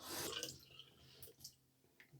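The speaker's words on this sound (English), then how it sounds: "I'm gonna saturate with water." Water is run onto a WALD shaving brush to saturate its knot. A soft brief gush at the start gives way to faint drips and wet rustling, all very quiet.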